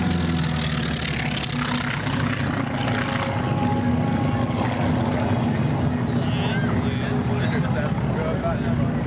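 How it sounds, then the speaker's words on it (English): A B-24 Liberator and six P-51 Mustangs pass over an airshow at MacDill, and their continuous piston-engine and propeller drone holds steady and loud throughout, with crowd noise mixed beneath it. "had a flyby with a B-24 Liberator and 6 P-51 Mustangs"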